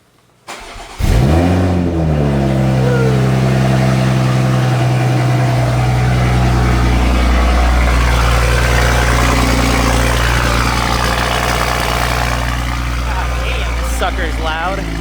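A Toyota Supra engine starts up, revs and settles into a loud, steady idle with a deep rumble, close by and alone for most of the stretch.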